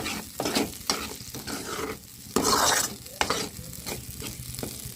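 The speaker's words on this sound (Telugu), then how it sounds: "ఈ గ్రేవీ అనేది ఇంకంత బాగా ఫ్రై అయితే టేస్ట్ అంత వచ్చింది అనమాట" Masala gravy for brinjal curry sizzles and fries steadily in oil, with stirring scrapes of a spoon against the pan and a louder burst of frying midway, no voices.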